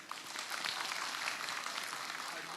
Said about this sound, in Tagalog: Yung maraming palakpak naman,